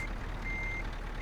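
Steady electronic reversing beeps from a Ford 8x4 truck backing up to hook a trailer in Euro Truck Simulator 2, a repeating high tone over a low idling engine rumble.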